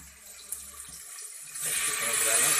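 Water is poured into a hot tempering pan of spices while cooking, a soft sizzle giving way to a rising, rushing splash that grows louder and steadier, with quiet background sounds before it.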